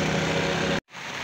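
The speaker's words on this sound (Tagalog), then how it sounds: "Umulan na." Steady rain pours down outdoors while travellers wait for a bus bound for Tacloban, a dense, even wash of hiss that stops abruptly near the end and then resumes more softly.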